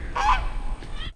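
A small anhinga, or snakebird, gives a close, loud, honking call, followed by a quieter second note before falling silent.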